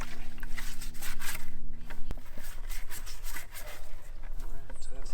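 Scrubbing the inside of a water-filled container during farm chores with a horse, chickens and pigs: brisk, rough rubbing and scraping strokes, close and continuous, with one sharp knock partway through.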